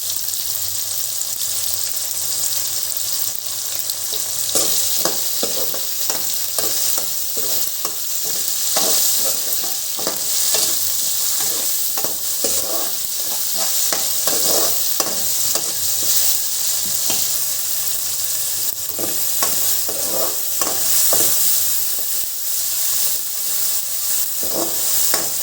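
Tomatoes sizzle steadily in an oiled pan for Nellore fish curry, a loud continuous fry broken by repeated scraping strokes of a stirring spoon, close up and with no talking throughout.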